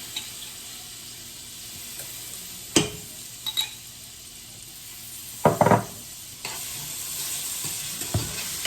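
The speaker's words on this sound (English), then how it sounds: "cook your garlic till it's fragrant and don't let it burn" Minced garlic sizzles softly and steadily in melted butter in a skillet, with occasional scrapes and clinks of a utensil stirring it, close and fairly quiet.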